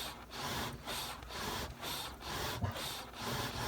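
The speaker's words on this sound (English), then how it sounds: "we spend several minutes fanning it with a bellows" Bellows fan charcoal in a wood stove firebox, giving rhythmic breathy whooshes of air roughly every half second, steady and close with soft rasping between strokes.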